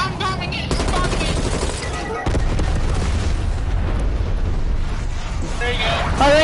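Bombing explosions in a video game, a loud continuous barrage of booms and rumbling blasts with crackling bursts, with a voice talking over parts of it.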